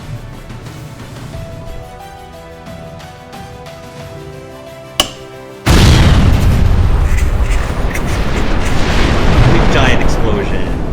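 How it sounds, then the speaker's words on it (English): A giant explosion sound effect erupts suddenly after a sharp crack, becoming a sustained loud roaring rumble that fills the rest of the stretch, following a quieter musical passage. "Giant explosion."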